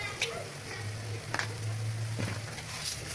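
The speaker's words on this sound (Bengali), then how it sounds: "এবার আমি ভেতরে জাল করে নেব কলিজাগুলি।" Beef liver cooks in a pan with cumin, ginger and garlic pastes, giving a quiet, steady sizzle with a few soft scrapes from stirring, close by and fairly faint.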